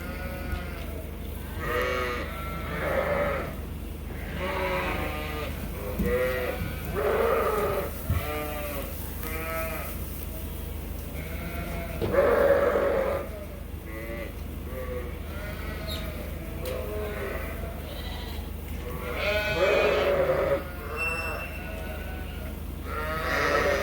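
Many sheep on a farm bleat loudly at feeding time in a barn, overlapping calls coming in repeated bursts from close and farther away over a constant background hum.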